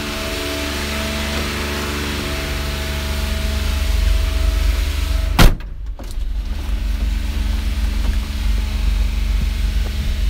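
A small car with a three-cylinder engine runs with a steady, loud hum as it is driven out, broken midway by a brief sharp knock and a short dip before the engine noise resumes.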